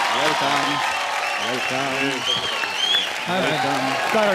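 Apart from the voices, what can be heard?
studio audience applause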